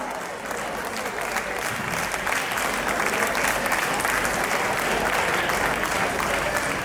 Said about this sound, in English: A big round of applause for the Homi Baba House.